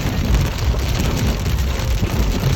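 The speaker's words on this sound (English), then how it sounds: "I think we got some hail." Hail falling during a storm chase, a dense, continuous patter and rattle on the car's surface, with rumbling wind noise and no talk.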